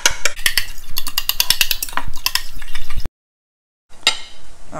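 Salted eggplant is mixed in a bowl with a utensil, giving a rapid, close series of sharp clinks and taps that stops abruptly, goes silent for about a second, then briefly resumes.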